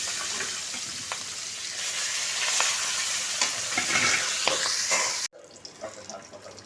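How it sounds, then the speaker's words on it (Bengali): Fish heads fry in hot oil in a home kitchen, a loud continuous sizzle with scattered pops and stirring scrapes that cuts off abruptly near the end, leaving a quieter clatter. "এবার মাছের মাথাগুলো ভেজে নিচ্ছি।"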